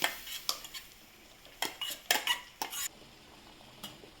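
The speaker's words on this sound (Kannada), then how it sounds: "ಈಗ ರುಬ್ಬಿದ ಟೊಮೆಟೊವನ್ನು ಬೇಳೆಗೆ ಸೇರಿಸುವುದು" Ground tomato is added to cooked lentils for tomato rasam, with a series of sharp metallic clinks and scrapes of a spoon against the pot coming in bursts, fairly close, with no talk.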